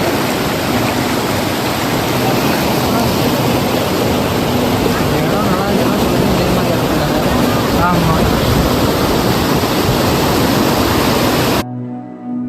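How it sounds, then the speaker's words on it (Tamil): Loud, steady rush of fast-flowing river water at Puliyancholai filling the whole scene, a dense continuous roar with no pauses, briefly cutting off at the end. "தண்ணி பாருங்கள் எவ்வளோ வேகமாக வந்துட்டுருக்குன்னு"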